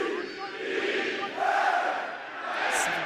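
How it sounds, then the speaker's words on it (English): Home crowd at a football match in the Europa League qualifiers, Mjällby against Red Bull Salzburg, roars in a broad, sustained swell that rises and falls, distant, with a few faint whistles near the end. "Crowd getting loud."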